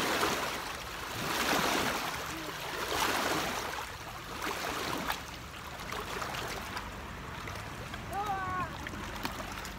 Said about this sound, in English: The waves, look at the waves.